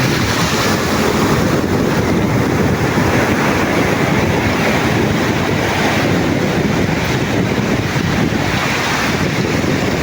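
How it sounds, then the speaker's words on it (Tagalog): Heavy open-sea waves surge around a fishing boat working for skipjack, a constant loud roar of water mixed with strong wind rumble on the microphone, with no voices. "Medyo malalaki ang alon."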